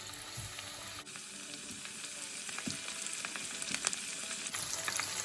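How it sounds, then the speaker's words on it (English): Cheese sizzles and crackles in hot oil, a steady frying hiss with small pops, close by and with no talking. "I'm going to start frying my halloumi cheese."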